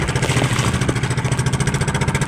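A faulty boat engine runs at sea with a loud, close, pulsing chug that throbs in a steady rapid rhythm throughout the short stretch.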